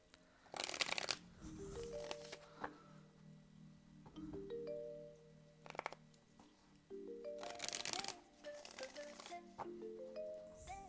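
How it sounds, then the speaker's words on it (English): Tarot cards are shuffled in repeated bursts of quick riffling and flicking, close and fairly quiet, with tonal chimes sounding between the shuffles. "Tell me to stop when to stop shuffling."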